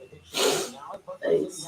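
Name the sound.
sneeze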